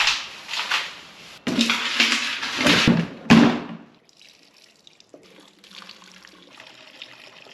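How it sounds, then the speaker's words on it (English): Gasoline poured over a Honda engine oil pan to soak it, a splashing liquid pour in bursts for several seconds that stops, leaving faint dripping and trickling. "I decided to try soaking the oil pan in gasoline too."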